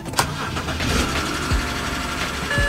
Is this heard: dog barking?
no